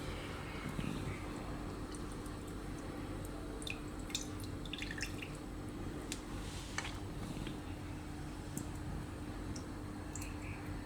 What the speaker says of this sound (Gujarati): આ રીતે નિતારી દેવાનું પાણી હોય.